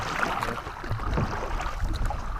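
Water sloshes and laps around a small paddled boat while island hopping off Burdeos, Quezon, with wind buffeting the microphone in a steady, rough wash.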